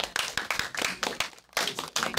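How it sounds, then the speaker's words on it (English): A class claps for its first student presenter, a small group of hands beating in a quick, uneven rhythm with a short pause before the clapping resumes, close and moderately loud. "I want to give applause for our first student"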